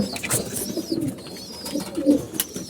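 Pigeons coo softly and repeatedly nearby, low throaty calls overlapping in a continuous murmur.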